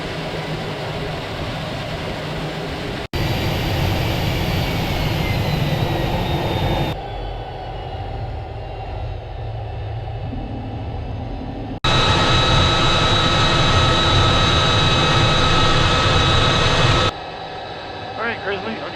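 Fighter jet engine roaring steadily from inside the cockpit during straight and level flight, a loud continuous broadband drone that shifts abruptly in level and tone several times, with a pilot and passenger talking over it.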